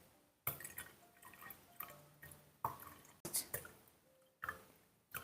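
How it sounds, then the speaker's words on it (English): Aged Liupao tea is poured from a 150 ml clay teapot, giving close, quiet splashes and drips that come in several separate bursts with short pauses between them. "The pouring is graceful."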